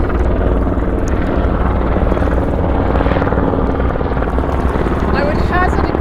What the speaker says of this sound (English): There's two great big helicopters up there.